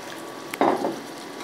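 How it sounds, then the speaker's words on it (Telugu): Onion pieces dropped into hot oil in a pan for a gourd curry, a sudden sizzling hiss that swells and then settles into a steady, fairly close frying sound after a short clink. "ఉల్లిపాయ ముక్కలు వేసుకుంటున్నాను."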